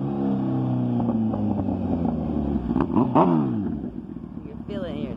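A 2008 Kawasaki ZX10 Gen 3 motorcycle with an M4 full exhaust rumbles close by, its deep engine note falling off into burbles and a few sharp crackling pops, with a voice talking briefly over the engine.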